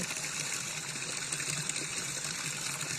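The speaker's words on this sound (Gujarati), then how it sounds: "સ્ત્રોતનું પાણી છે જે પહાડોમાંથી આવતું હોય છે" Spring water running down from forested mountain slopes makes a steady, unbroken rushing and trickling wash, close and even, with no voices.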